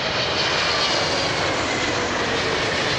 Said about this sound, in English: my very first Etihad 777